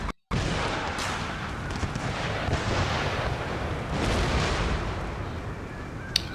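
Troops fire massed musket volleys in the strategy game Empire: Total War, a dense, continuous crackling roar of overlapping shots that swells and holds at close, loud level after a brief silent start.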